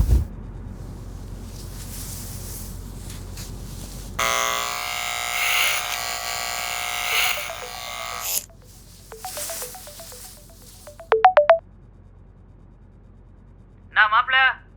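A mobile phone ringtone plays a long, loud melodic stretch, then returns in short bursts of ringing tones after a pause, with background talk and ambience early on, in a Tamil village setting.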